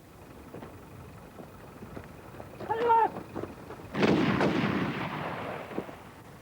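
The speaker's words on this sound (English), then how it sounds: "Pretty good close quarter shooting by the Welsh" Close-quarter gunfire at a Welsh military shooting exercise: a sharp loud burst followed by a sustained roar that slowly decays, preceded by quieter clatter and brief voices.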